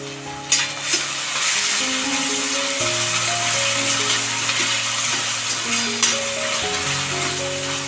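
Tomato, onion and chilli sautéing in oil for a wild mushroom bhaji, a loud steady sizzle with occasional sharp spoon scrapes and clinks, with steady tonal background music underneath.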